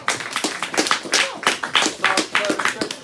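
A small crowd claps in uneven bursts at a karting season award ceremony in Lublin, distinct individual hand claps rising and falling in quick pulses rather than a continuous wash.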